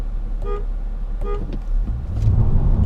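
Two short car horn honks start a drag race between a 2018 Toyota Camry V6 and a 2018 Mazda6, over a low engine idle, followed by a rising engine rumble.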